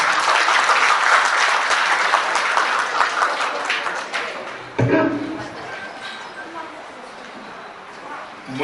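Audience applause at a Delhi Ningol Chakkouba community gathering, loud and dense at first, then thinning out after a sudden thump midway as the clapping fades into quieter scattered claps and murmuring.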